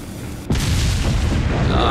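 Dynamite detonates in the Resident Evil 4 game, a sudden loud booming blast that cuts in abruptly and rumbles on with a rolling, noisy tail.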